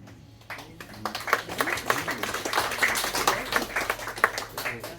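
An audience at a summer seaside show applauding, a dense patter of many hands clapping that swells after a quiet start and holds at moderate loudness with no talk over it.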